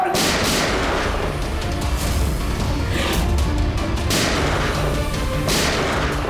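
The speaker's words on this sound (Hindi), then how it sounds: "ऐसी गोली चलाते रहो तो बहुत देर हो जाएगी" Gunfire in a TV crime drama shootout: dense, continuous loud bursts of shots and booming impacts with a few sharper cracks, sustained throughout with no talking.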